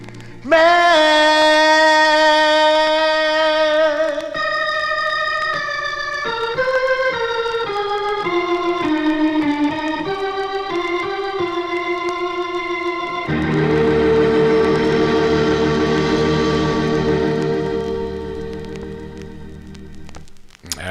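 A 1960s soul record plays loud and steady, with a sustained vocal line over full band backing that swells into a denser, brassier section near the end.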